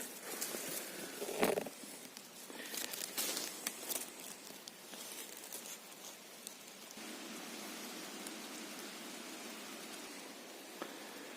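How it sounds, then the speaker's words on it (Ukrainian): Soft, steady patter of light rain in an autumn forest, with a few brief rustles and knocks early on, then an even hiss. "Накрапує дощ."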